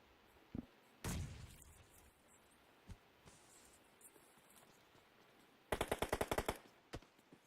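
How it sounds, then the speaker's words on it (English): Gunfire in a competitive online shooter match: a few isolated shots early on, then a rapid burst of about eight loud automatic shots near the end, with a final single shot. "A little gunshots to finish the job."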